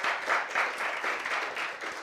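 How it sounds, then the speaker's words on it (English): Brief applause at an innovation pitch event: a small group claps in a quick, slightly pulsing rhythm for about two seconds, moderately close and without talk. "give her a round of applause"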